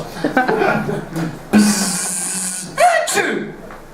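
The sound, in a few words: imitated sneeze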